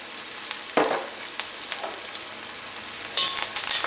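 Onion, green chilli and curry leaves with cumin seeds fry in a hot pan for a kovakka thoran, giving a continuous close sizzle with a few sharper crackles and stirring scrapes.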